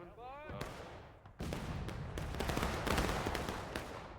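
A musket volley from an infantry regiment in House Divided cracks out as a dense, ragged burst of many shots, loud and sustained over battlefield rumble, with a voice heard briefly before it.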